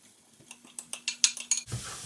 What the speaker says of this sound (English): So as you're stirring that bok choy